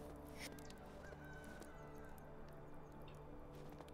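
Chickens cluck and gabble in the medieval village farm of the game Medieval Dynasty, their overlapping calls layered into a dense, steady background with no pauses.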